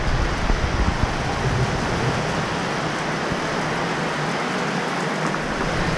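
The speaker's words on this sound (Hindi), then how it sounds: "घूम रहे थे और बारिश स्टार्ट हो गई" Steady, dense monsoon rain in Kerala hissing down on surfaces, broad and continuous throughout with no voices.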